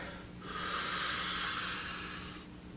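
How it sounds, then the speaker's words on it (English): A single deep, slow breath drawn in through the nose during a hip and shoulder mobility exercise, a close airy rush that swells and fades over about two seconds. "Take a deep breath"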